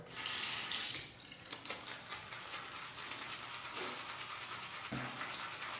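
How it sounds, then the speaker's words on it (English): Tap water runs into a shaving bowl during lathering, a steady splashing flow that is loudest in the first second and then settles into a softer continuous trickle. "Let's add a little bit of water."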